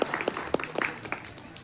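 Villagers applaud at a farmers' gathering in Radi village, Ambajogai taluka: a short burst of scattered, fairly close hand claps with uneven rhythm over a low room hum, no voices.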